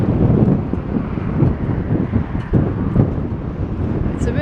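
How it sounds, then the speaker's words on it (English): Gusty wind on a seafront promenade at Blackpool buffets the microphone in heavy, rumbling bursts that rise and fall continuously, loud and close. "you'll be able to hear me over the noisy wind."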